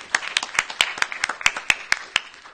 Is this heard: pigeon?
no